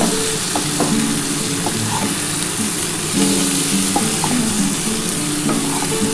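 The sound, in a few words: chopped tomato frying in fish oil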